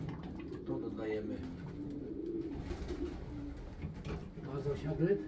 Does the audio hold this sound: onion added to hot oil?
no